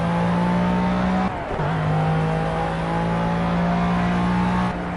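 A race car laps the Nurburgring in a racing video game, its engine droning steadily at high revs with a brief dip as it shifts, then holding a constant loud tone without any talk.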